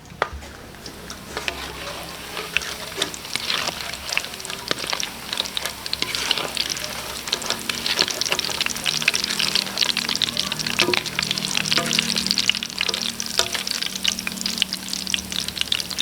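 Chicken liver balls fry steadily in a pan, a dense, continuous sizzle with crackling pops and occasional stirring scrapes, loud and close throughout.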